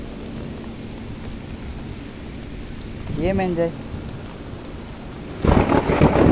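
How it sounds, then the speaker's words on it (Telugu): Heavy rain pours steadily near a security post in Visakhapatnam, with a low rumble of thunder building and a sudden loud crack near the end. A man briefly exclaims partway through. "పిడుగులు కూడా మామూలుగా పడట్లేదు."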